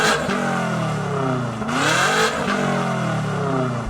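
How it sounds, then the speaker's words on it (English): BMW G90 fitted with a lightweight Akrapovic exhaust revs up loud and close, its engine note rising and falling through two strong sweeps over a steady throaty drone, with no talking. "Let's check out the sound of my weight-saving Akrapovic exhaust."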